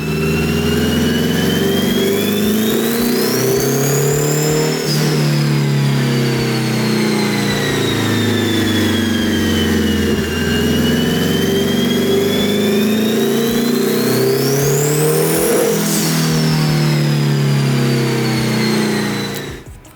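A Honda CRX engine on a dyno revs up in a light partial pull, climbing in pitch, easing back, then rising again to a second higher peak before cutting off. The sound is loud, close and continuous, with no voices.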